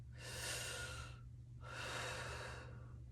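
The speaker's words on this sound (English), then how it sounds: "we're going to breathe 6 times in through the mouth, out through the mouth" Two slow, audible breaths drawn in and pushed out through the mouth, each a soft airy rush lasting about a second, heard close and alone over a low background hum.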